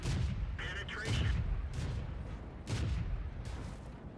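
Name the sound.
tank cannon fire in video game World of Tanks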